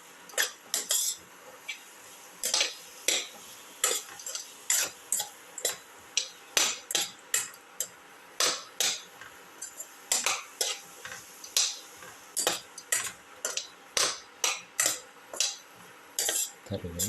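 A metal spoon stirs potato and snake gourd pieces with chili and turmeric powder in a pan, making a steady run of sharp scraping clinks against the pan, close and fairly quiet, repeating in a regular rhythm.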